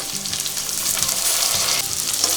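Onions sautéing in a pan for pepper chicken gravy, a steady loud sizzle and crackle of frying with faint stirring scrapes, continuous throughout and with no talking.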